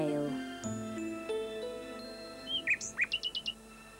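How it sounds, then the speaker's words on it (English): A nightingale sings a short burst of bright, quick chirps and a rapid run of repeated notes, after sustained musical tones fade out; fairly clear and close. "Nightingale."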